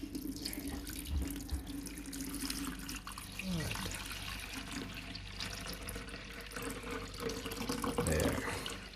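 Tap water is poured steadily into the water tank of a Trister humidifier, making a continuous rushing, splashing stream at moderate loudness with a faint gurgle that rises near the end.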